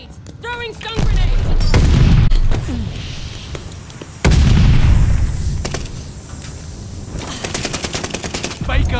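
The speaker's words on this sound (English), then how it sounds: "Throwing grenade!" Call of Duty Vanguard combat: grenade explosions burst in two loud booming swells amid rapid machine-gun fire and scattered gunshots, with battle chatter and voice callouts mixed underneath.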